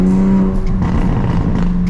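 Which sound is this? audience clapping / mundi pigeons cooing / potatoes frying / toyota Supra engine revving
toyota Supra engine revving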